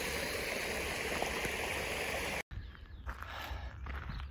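A broad river in the countryside runs with a steady, even rush of flowing water, loud and continuous, then cuts out abruptly before returning quieter with a softer, more distant babble.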